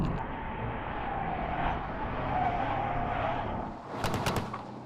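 A car brakes hard into a corner during a Top Gear power lap, a rough, harsh-sounding engine droning then dropping, with a brief burst of tyre squeal near the end, heard from a distance.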